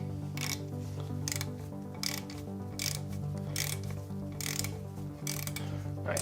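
A torque wrench ratchets as clutch bolts on an Evo 9 are tightened to 25 foot-pounds, giving a series of quick clicking bursts at irregular intervals, close and fairly quiet over a low background hum.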